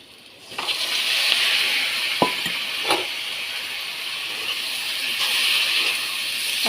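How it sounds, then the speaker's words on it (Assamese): Pork frying with browned onions in a pan, a steady hissing sizzle that rises after a quiet start, with a few sharp clinks from a utensil. "মাংসখিনি অকণমান ভাজি ল'লোঁ"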